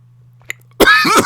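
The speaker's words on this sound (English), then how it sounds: "I've had a lingering cough since January." A single sharp cough from a person with a lingering cough, close and loud, followed at once by a burst of throat-clearing and hacking noise against a steady low hum.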